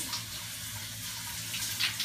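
A shower runs with water falling steadily, making an even, continuous hiss and splash at close range. No voices are heard.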